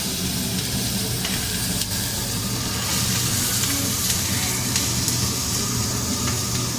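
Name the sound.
stir frying vegetables in hot oil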